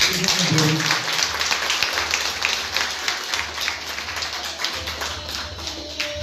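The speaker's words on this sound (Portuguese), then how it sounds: "Aplauda Jesus." Congregation clapping during a Brazilian church sermon, a sustained rhythmic patter of hands under a low hum, with a preacher's voice faintly present.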